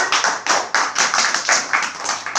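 Classroom applause for the first group: a small number of hands clapping in a fairly regular rhythm of distinct, close claps, about eight over a couple of seconds.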